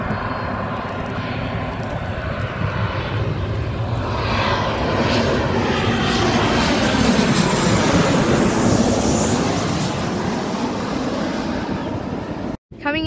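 A Boeing 737-8FE airliner passes overhead at night with a loud, sustained engine roar that swells and sweeps past, then cuts off abruptly near the end.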